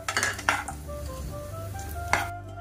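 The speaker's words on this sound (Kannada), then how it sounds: "ತುಪ್ಪ ಸ್ವಲ್ಪ ಬಿಸಿ ಆಗಿದ್ದ ಕೂಡಲೇ ನಾನು ಡ್ರೈ ಫ್ರೂಟ್ಸ್ ತಗೊಂಡಿದ್ದಲ್ಲ ಅದನ್ನೆಲ್ಲ ಹಾಕ್ಕೊಂಡು ಹೀಗೆ ಹುರ್ಕೊಳ್ಳೋಣ" Dry fruits roast in hot ghee in a pan for papaya halwa, with a few sharp metallic clinks and scrapes of a spoon stirring against the pan over a faint sizzle.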